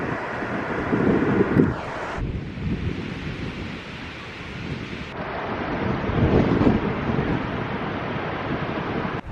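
Strong wind buffets the microphone on Porthlooney Beach in the UK, with waves rolling and breaking behind it in loud, uneven gusts and no speech.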